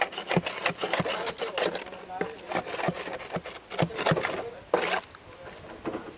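Hammer strikes chipping welding slag loose from a fresh weld, a quick irregular series of sharp metallic taps and scrapes, fairly close, with a voice talking over parts of it.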